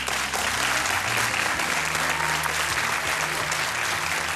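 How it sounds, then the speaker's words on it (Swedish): Studio audience at a televised bingo lottery show giving sustained, loud applause, a dense wall of clapping throughout with no speech over it. "en stor applåd."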